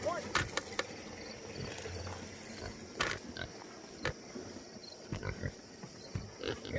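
Pigs grunt in short, irregular bursts close by while nibbling at someone's shoes and pants near a pig drinker made from a 55-gallon drum, with some faint background noise.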